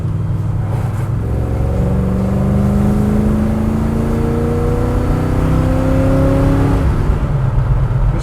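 A car with a Ford automatic transmission, showing a modulator adjustment fault, revs and accelerates in one steady loud pull, its engine tone rising and stepping through gear shifts before settling back.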